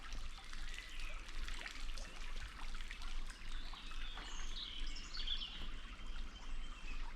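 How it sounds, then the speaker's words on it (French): Small Tarse stream trickling and flowing steadily over stones in a forest, with faint birdsong chirping high above the continuous water noise; no voices. "Voilà le ruisseau de la Tarse."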